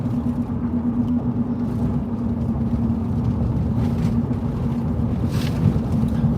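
Steady low road rumble from inside a moving car, with wind noise against the microphone and a constant engine drone and no talking.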